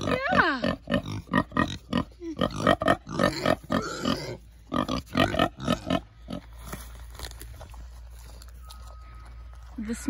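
Pigs fed on kitchen scraps grunt and chomp loudly while eating stored pumpkin on a homestead, with busy bursts of chewing and snorting close by that thin out into quieter background noise.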